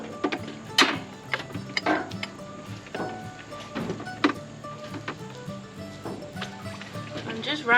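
A wrench works on a car battery terminal in an old vehicle abandoned for 48 years, giving irregular metallic clicks and ratcheting taps, close by, while people talk over it.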